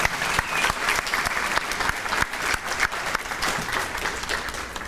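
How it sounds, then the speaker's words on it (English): A graduation ceremony audience for a nurse practitioner class bursts into sustained, dense clapping, a steady loud wash of many hands throughout with faint crowd murmur underneath. "Give them a big round of applause."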